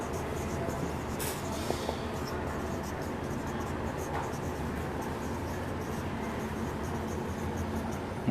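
Chalk or marker scratching across a board during a math lesson, a steady stream of soft scraping strokes beneath low room noise with a brief voice in the background.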